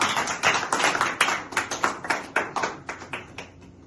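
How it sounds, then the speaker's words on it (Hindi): An audience claps for an academy team at a Bihar Board topper event, a burst of loud, fairly sparse hand claps that quickly thins to scattered individual claps and fades out. "एकेडमी की पूरी टीम के लिए एक बार ताली हो जाए"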